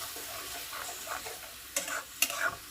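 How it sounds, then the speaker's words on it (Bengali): Onion paste and spices cooking in oil for a Bengali jackfruit curry, a faint steady sizzle with a few soft stirring scrapes and two sharper clinks near the end, close and quiet, with no voices. "খুব ভালো করে কষাতে থাকবো"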